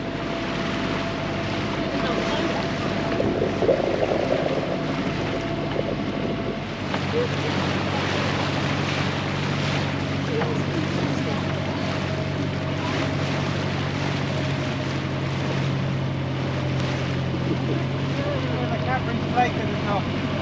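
A steady rumble of a boat engine on the sea off Guernsey, Channel Islands, with wind and water noise throughout, continuous and fairly loud, a faint tone fading early on.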